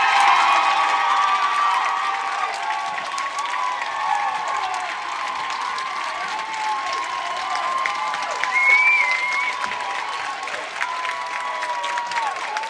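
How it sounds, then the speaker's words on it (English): A town hall crowd cheers and applauds after a question, a steady wash of clapping with scattered whoops and shouts, loud and sustained throughout. "Look closely at this crowd cheering the question"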